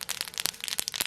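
Mustard and fennel seeds pop and splutter in hot oil, a quick burst of sharp crackles and snaps close by.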